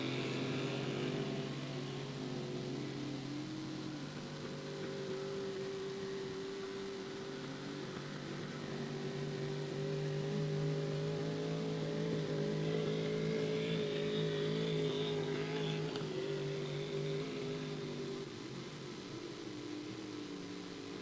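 Cracker box race boat engines during a race, a continuous distant buzzing engine drone with shifting pitch as boats run laps, moderately faint and without talk.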